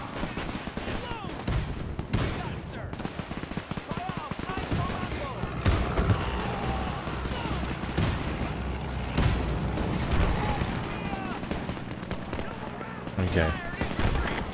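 A TNT charge blows up enemy soldiers in the war strategy game Men of War 2, with booming blasts amid near-constant rattling gunfire and a voice talking over the battle.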